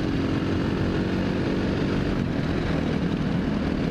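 A KTM supermoto motorcycle drones steadily while being ridden, its engine a dense, even roar close to the microphone with no pauses or speech.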